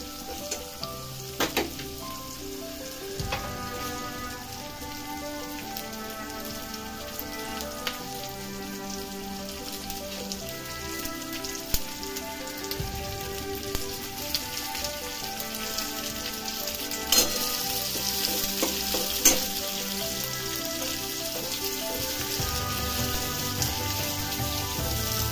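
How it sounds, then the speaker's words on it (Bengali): Onions sizzle and fry steadily in a pan of hot oil with dry red chillies, ginger and garlic while making chilli paneer, a continuous crackling hiss with occasional stirring clatter throughout. "এবার পেঁয়াজ দিয়ে দেবো।"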